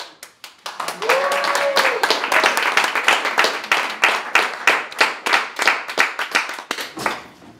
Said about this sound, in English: give Jody a big round of applause